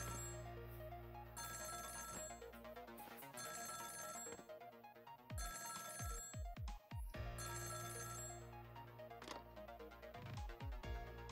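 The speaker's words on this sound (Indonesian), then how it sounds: "Soalnya nanti teleponnya bunyi." A telephone rings in the video game Ghost Trick with repeated electronic tones, sounding in bursts among layered game music and effects, with no talk over it.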